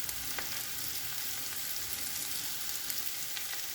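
Carrots and spring onion stalks frying in a pan, an even crackling sizzle with occasional faint stirring taps, close but moderately quiet, no voices.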